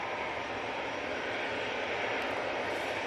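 An easyJet airliner arriving at Manchester from Zurich produces a steady, broad engine roar that holds level and fairly loud throughout, with no voices over it.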